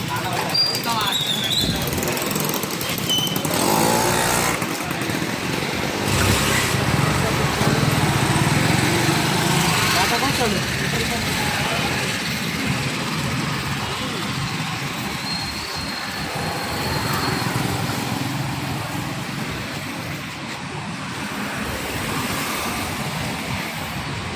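A pump motor runs at a pump and electrical shop, giving a steady, loud mechanical drone throughout while people talk over it.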